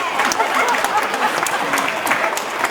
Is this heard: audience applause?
yes